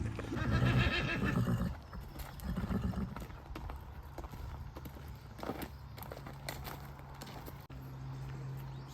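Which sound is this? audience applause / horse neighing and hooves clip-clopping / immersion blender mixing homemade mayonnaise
horse neighing and hooves clip-clopping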